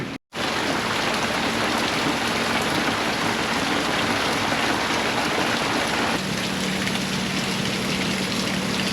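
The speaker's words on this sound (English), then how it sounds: "Rain!" Steady heavy rain drums continuously on a boat's catamaran roof nearby, a dense hiss with a low hum underneath that shifts slightly partway through.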